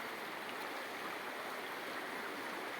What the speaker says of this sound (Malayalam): നമ്മളെ പുറകിലൂടെ വെള്ളം ഒഴുകുന്നത് നമുക്കിവിടെ കാണാം